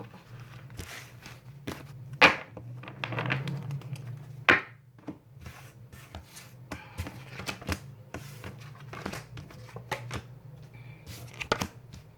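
Tarot cards shuffled by hand for a reading, giving irregular bursts of papery riffling and taps, close and fairly quiet, with brief pauses between handfuls.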